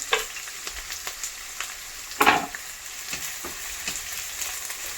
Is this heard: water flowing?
no